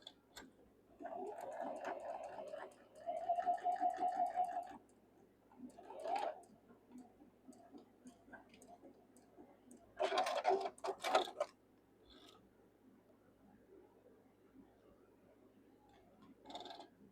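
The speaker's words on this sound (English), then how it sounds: "Let's get to sewing." A sewing machine stitches quilt blocks in a few short runs of steady mechanical whirring, separated by quiet pauses and light handling noise.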